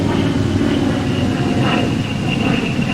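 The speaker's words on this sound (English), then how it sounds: "You're coming in for a normal 3-point landing" A Republic P-47 fighter plane comes in for a normal three-point landing, its loud radial engine roaring steadily and close with a rough, droning rumble and some wind buffeting throughout.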